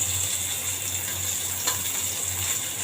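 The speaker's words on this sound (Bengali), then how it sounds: "কড়াই ওদিকে ভাজা হচ্ছে করলা ভাজা" Bitter gourd fries in oil in a wok, giving a constant close sizzle with a faint low hum beneath and one brief crackle near the middle.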